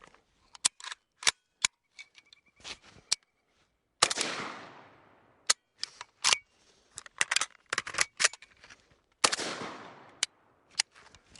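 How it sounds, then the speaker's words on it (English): Sharp metallic clacks and snaps from an AK-74 rifle during a bolt hold open reload, in scattered quick bursts with two longer rattling, scraping passes, close and fairly quiet, no talking. "now I'm gonna set up for the bolt hold open reload"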